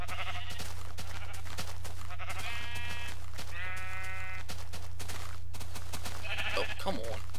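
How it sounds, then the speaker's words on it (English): Sheep in the Minecraft video game bleat several times in short, nasal bursts, with a steady low drone running underneath throughout. "This is more sheep than I originally intended."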